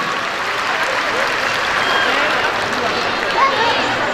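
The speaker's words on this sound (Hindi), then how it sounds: "बेटा मैडम के लिए तालियां कम हैं, भरपूर तालियां होनी चाहिए।" An indoor audience at a silver jubilee convention centre ceremony claps steadily for a special shield presentation, a sustained wash of applause with faint voices mixed underneath.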